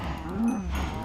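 Cows mooing in a Minecraft modpack world: one drawn-out, fairly loud low moo over steady game ambience.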